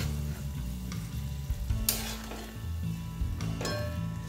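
Chicken marinated with mustard oil and curd being stirred and sautéed in a pan, a soft continuous sizzle broken by scraping strokes and a few sharp clinks of a spoon against the pan.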